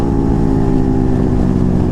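Loud exhausts of a KTM Duke 390 and a Bajaj Pulsar 125 motorcycle rumble together in a steady, dense, unbroken engine drone, close and loud.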